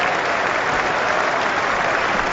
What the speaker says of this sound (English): the crowd are cheering Monty